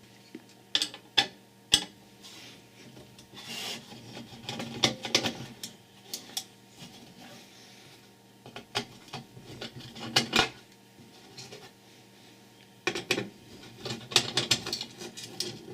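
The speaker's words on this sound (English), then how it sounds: "Take off another couple of screws." Small screws are unscrewed and lifted out of a Black Arrow Prospero X1 ASIC Bitcoin miner, sharp metallic clinks, taps and brief tool clatters in scattered bursts separated by quiet pauses, with no talking.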